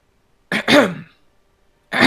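A person clears their throat twice in quick succession, then gives another short throat-clearing cough after a pause, close and dry against silence.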